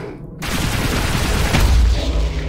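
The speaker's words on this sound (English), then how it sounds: "shotgun was able to execute that poor fellow on quite the long distance" Booming shotgun blasts in Project Warlock 2 come through a dense, loud wash of combat noise, with a heavier low thump near the end.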